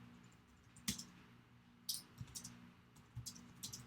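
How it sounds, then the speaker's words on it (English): Typing on a computer keyboard, a few sparse, faint clicks and taps spread over a low steady hum, with no talking. "I'm going to type in here."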